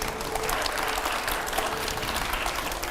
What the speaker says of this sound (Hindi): जरा तालियां थोड़ी कम सुनाई दे रही है, जोरदार तालियां हो यहां पर।